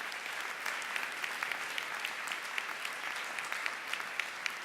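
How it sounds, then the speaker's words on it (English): Applause from a gala audience for school supporters, moderately faint and steady with scattered sharper claps standing out across the room. "maybe a nice round of applause again for them."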